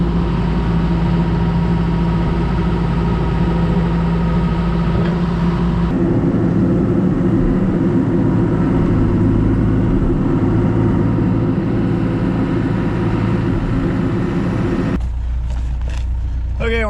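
Heavy snow-removal machinery runs after a storm, a loud, steady diesel engine drone that shifts in tone partway through and ends with a burst of clattering knocks.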